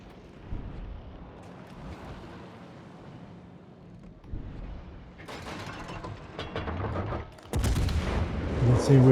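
Heavy ship guns fire salvos in a naval video game, loud booming bursts with rumbling tails that swell toward the end, over steady background engine noise.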